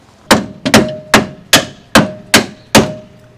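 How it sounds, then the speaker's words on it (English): Dead blow hammer striking to seat the rear strut bolts on a 2003 Toyota Camry during suspension work: six sharp, close, loud whacks at a steady pace, with no talking. "I'm going to use a combination of the jack with a dead blow hammer to seat those bolts in there"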